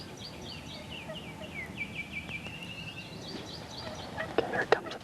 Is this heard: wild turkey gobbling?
yes